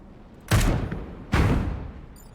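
Two heavy artillery blasts from a mech in the turn-based strategy game Into the Breach, each a sharp loud boom with a decaying rumble, spaced under a second apart.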